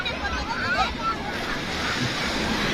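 Ocean waves at a beach where a small child is swimming, a steady broad wash of surf and wind rumble filling the clip, close and continuous with no clear breaks.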